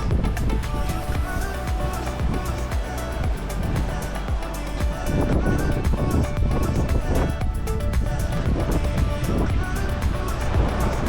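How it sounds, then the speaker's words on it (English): Big waves rolling behind a sailing boat off the Colombian coast near Barranquilla, a constant loud wash of surf and wind noise filling the whole stretch. "Pretty big waves behind us."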